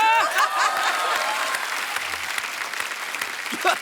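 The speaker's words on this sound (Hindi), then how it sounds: "हर बात पे वैसे ही ताली बजाते हैं" Studio audience on a Hindi comedy talk show applauds steadily, a dense wash of clapping that slowly thins out, with a voice briefly heard over it at the start.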